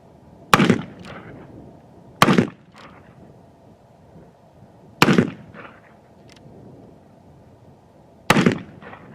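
Uberti Richards Mason revolver loaded with black powder, fired four times at uneven intervals; each loud, sharp report rings out with a short echo trailing behind it.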